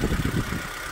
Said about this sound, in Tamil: வண்டியோட இன்ஜின் ஐடிலிங் நல்லா தான் இருக்குது